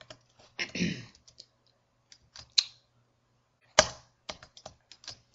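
A few scattered keystrokes tap on a computer keyboard, quiet and sparse, with one slightly longer burst of clicking and several single sharp taps spread across long silent gaps.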